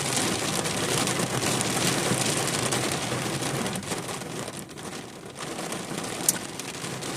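Rain falling outside, an even hiss of drops on surfaces holding steady throughout, with a slight dip in the middle and one brief sharp tick near the end, no talk.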